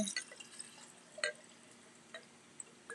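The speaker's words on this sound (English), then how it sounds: "once you pour the water in" Cold water drips and trickles into a can-shaped glass, a handful of faint, scattered droplet plinks spread over a quiet background.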